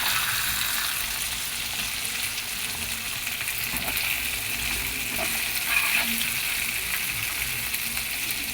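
Prawns fry in a pan, producing a continuous crackling sizzle with faint occasional stirring, close and steady, with no voices.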